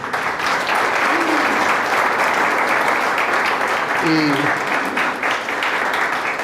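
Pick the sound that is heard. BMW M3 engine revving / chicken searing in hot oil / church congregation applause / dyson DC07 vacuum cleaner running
church congregation applause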